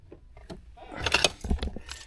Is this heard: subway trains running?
no